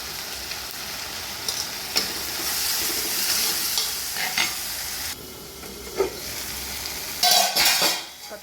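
Tomatoes and turmeric sauté over onions in a pan for a fish curry, giving continuous sizzling broken by repeated spoon scrapes and clinks against the metal, close and fairly loud, with no talking.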